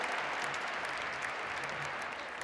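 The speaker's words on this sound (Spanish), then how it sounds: "Un aplauso, por favor, para las…" Audience applause at a conference workshop on early childhood public policy, a steady, fairly quiet wash of clapping that holds evenly for the whole stretch with no voices over it.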